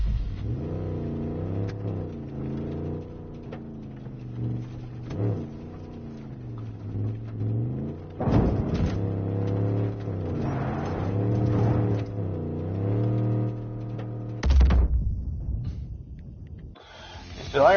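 A car driving in the Far Cry 5 map editor, its engine droning steadily and revving up and down in waves, with a louder surge and an abrupt stop near the end.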